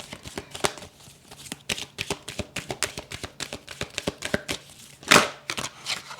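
Tarot reading cards are shuffled by hand nearby, a rhythmic run of crisp slaps and flutters with one louder burst near the end.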